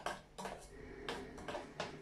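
A spoon stirs cocoa in a cup, giving several quiet metallic clinks and scrapes at a steady, quick pace.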